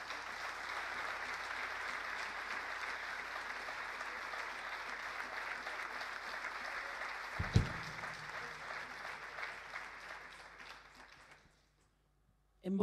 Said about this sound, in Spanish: Francisco Mondoni, fuerte el aplauso para él.